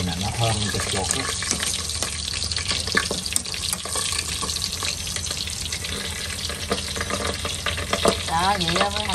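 Field rat stir-frying with Vietnamese coriander and scallions in a hot pan, giving a loud, continuous sizzle with scraping stirs close by while a voice talks over it.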